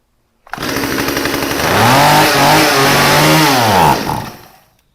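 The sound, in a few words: Stihl chainsaw engine running and revving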